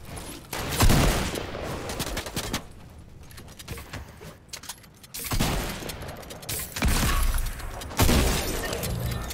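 Fire sniper rifle shots in Fortnite: bursts of loud cracking blasts and crackling gunfire come in clusters with brief quieter gaps between them, heard close in the middle of a battle.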